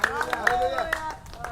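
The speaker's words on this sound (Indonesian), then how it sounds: "Tepuk tangan jangan tanggung-tanggung." A church congregation claps in scattered, uneven bursts through a voice speaking loudly over them, close and moderately loud.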